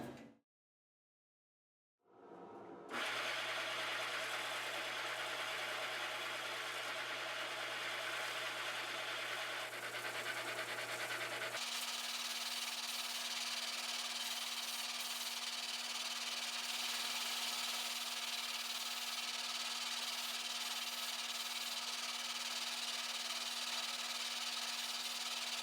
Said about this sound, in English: This is all done on that radius disc sander conversion kit for the drill press.